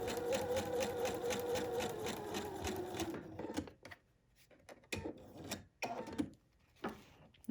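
A sewing machine stitches a quarter inch seam in a steady, rapid mechanical rattle for about three seconds, then stops, leaving scattered handling noises of fabric and rubbing.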